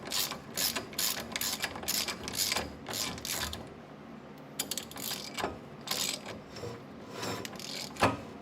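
Ratchet on a Yamaha Rhino rear hub cranks the axle nut tight, fast bursts of dense metallic clicks in several runs with brief pauses, close and fairly loud.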